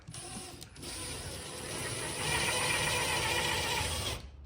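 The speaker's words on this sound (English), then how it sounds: "Now we are drilling for the hardware." A steady, high-pitched whirring of a power drill boring hardware holes in furniture, running continuously for several seconds, close by, with a brief dip early on.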